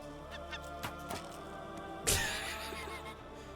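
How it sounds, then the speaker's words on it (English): A loud honking bird call, geese-like, breaks out once amid a steady hum and scattered ticking sounds, fairly near and standing clearly above the background. "I hear birds and it's freaking me out."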